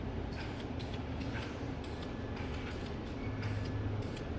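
Steady, continuous hiss of a spray can laying a primer coat onto BBS RS771 alloy wheels, close and loud with no break, a faint low rumble beneath.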